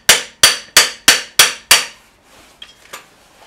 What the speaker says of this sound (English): Good couple of whacks.